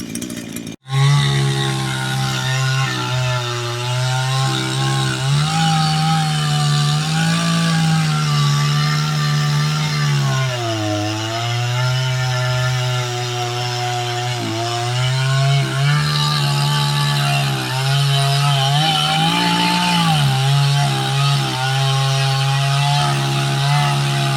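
A dull chainsaw cuts into a big white oak log about two feet thick, its engine roaring steadily and loudly up close for the whole stretch, pitch dipping and rising as the chain bites into the wood.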